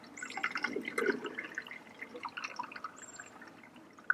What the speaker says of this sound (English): I'm just going to very lightly give it a little bit of a rinse off.